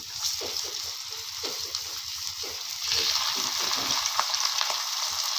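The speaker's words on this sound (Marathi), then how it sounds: "त्याच पद्धतीने मी ना सगळं असं मासं तळून घेणार आहे" Bangda mackerel pieces fry steadily in hot oil in a pan, a continuous crackling sizzle with scattered pops that grows slightly louder midway, heard alone without voices.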